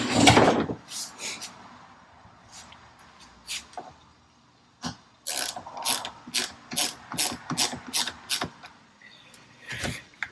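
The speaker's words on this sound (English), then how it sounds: "I'm going to tighten this down." A socket ratchet cranks down a part on a weed whacker, starting with a loud clatter, then a pause and a series of quick, uneven clicking strokes close by, with no voice over them.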